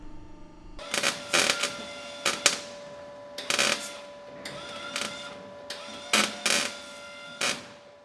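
A MIG welder tack welds a car subframe in short crackling bursts, about eight separate tacks of a second or less, irregularly spaced, with a faint steady hum between them and no talk.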